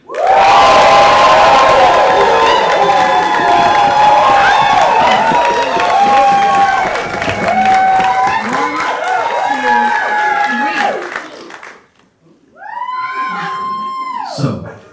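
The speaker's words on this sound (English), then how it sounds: "on the count of 3, I want you to whoop, holler, and cheer." A theatre audience at a Great Gatsby stage show erupts in loud whoops, hollering and cheering with scattered clapping, a dense, close crowd roar that briefly dies away before a second burst of shouts.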